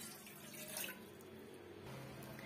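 Tap water runs steadily into a tumbler or pan while tea is being made, a continuous splashing flow heard close by and fairly soft, with no talking.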